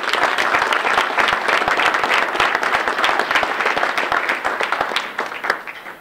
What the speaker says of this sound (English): you should give the folks who are here from the legislature a round of applause